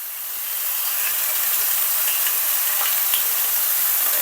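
Turkey burgers seasoned with Roadhouse steak seasoning sizzle steadily in a pan, a loud, continuous crackling hiss that swells in the first half second and then holds even throughout, with no talking.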